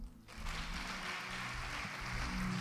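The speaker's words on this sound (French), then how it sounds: "Acclame pour Jésus." A church congregation applauds for Jesus during a sermon, a brief burst of steady clapping from a crowd, fairly faint and heard alone.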